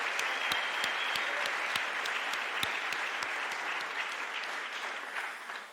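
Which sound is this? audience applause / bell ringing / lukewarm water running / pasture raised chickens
audience applause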